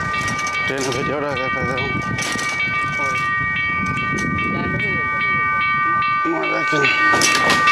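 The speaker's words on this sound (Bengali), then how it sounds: "এই সেই মেইল ট্রেন যেটাতে করে আপনারা খুব কম খরচে ঢাকা থেকে সীতাকুণ্ডে আসতে পারবেন" A mail train on the Dhaka to Sitakunda line runs past, its loud rumbling wheels and rattling carriages sounding throughout while people talk nearby and a steady high tone hums over the top.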